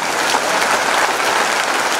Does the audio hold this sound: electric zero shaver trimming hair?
no